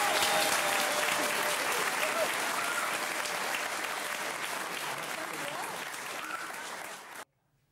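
Audience applause at a concert celebrating a children's music school's 30th anniversary: steady, dense clapping from a full room that carries on for about seven seconds and then cuts off abruptly.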